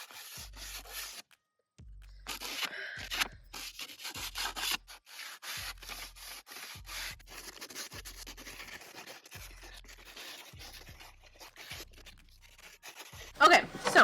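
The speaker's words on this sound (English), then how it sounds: "Y'all ready to go outside and sand these freaking edges?" Wooden side table edges are sanded by hand outdoors, with a soft scraping rub running through the whole stretch and regular strokes marked by low thumps, all fairly faint and with no one talking.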